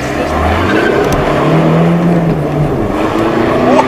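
A modified Volkswagen Golf 7 TDI diesel engine pulls hard under acceleration, loud and close, with a rising drone and some tire noise, faint voices underneath.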